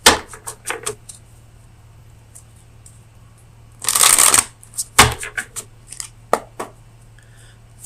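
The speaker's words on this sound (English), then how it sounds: "let me get you an oracle card from the Oracle of Visions" Oracle cards from the Oracle of Visions deck are shuffled in quick papery riffles and taps, with one dense, longer riffle in the middle. The sound is close and crisp over a faint steady hum.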